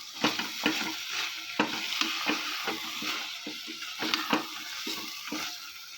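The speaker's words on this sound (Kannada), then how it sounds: "ಹೆಚ್ಚಿಟ್ಟಿರೋ ಅಂಥ ಮೆಂತ್ಯ ಸೊಪ್ಪು ಇದು ಹಾಕ್ಬಿಟ್ಟು ಸ್ವಲ್ಪ ಫ್ರೈ ಮಾಡ್ಕೊಂಬಿಟ್ಮೇಲೆ ಅಕ್ಕಿ ಹಾಕೋಣ." Chopped fenugreek leaves sizzle and fry in a pan for methi pulao, with a spoon stirring and scraping in a steady series of close, fairly loud strokes over continuous frying hiss.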